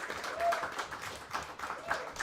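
A short burst of clapping for Jen from a small gathering at a Baldwinsville boys basketball event at a pizza restaurant, scattered hand claps mixed in with nearby talking voices.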